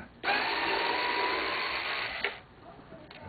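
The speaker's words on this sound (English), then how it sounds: "You see why I don't like to use electric screwdrivers." An electric screwdriver whirs loudly for about two seconds while backing out a screw on a vacuum pump check valve, stops abruptly, and then gives a brief second buzz; the tool is heard close up with no talking.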